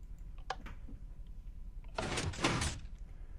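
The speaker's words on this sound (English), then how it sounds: "and then that should close the door." A redstone-powered door in the Minecraft video game swings shut with a brief, fairly loud burst of clattering noise lasting under a second, preceded by a few faint clicks and no talk.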